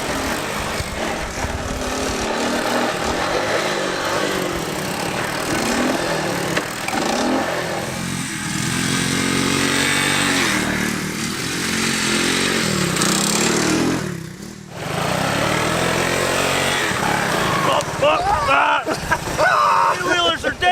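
Engine of an old three-wheeler being ridden, revving and droning continuously close by with rising and falling pitch, a short dip around the middle before it pulls again, and a voice talking over it at times.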